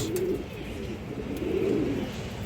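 Domestic Kaldom pigeons coo softly at close range, with two low, rolling coos separated by a short pause and no talking.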